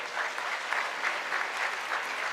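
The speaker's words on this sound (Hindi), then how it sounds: "आप चाहे तो सारे बच्चे जोरदार तालियां" An audience at a Jain religious initiation festival bursts into steady, continuous clapping that holds evenly throughout, with no voices standing out.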